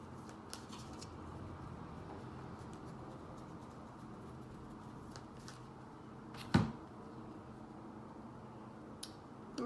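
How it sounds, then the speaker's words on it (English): A Rumi Oracle deck of cards is handled: soft rustles and brief flicks of shuffling, then one sharp snap as a card is pulled. A couple of faint clicks follow over a quiet room hum, with no voices. "I'm just going to pull a Rumi Oracle card for Sagittarius for May"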